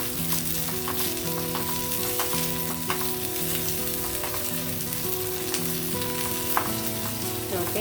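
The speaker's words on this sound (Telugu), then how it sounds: "వేగిపోయిందండి మన తాలింపు వేగిపోయింది" A tempering of spices frying in hot oil for a chana dal curry, with coriander and curry leaves mentioned, crackles and sizzles steadily in a pan while music plays underneath.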